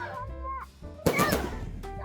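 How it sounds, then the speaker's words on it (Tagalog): A single sharp firework bang bursts out during a New Year celebration, with people talking nearby before and after it. "They're fireworks."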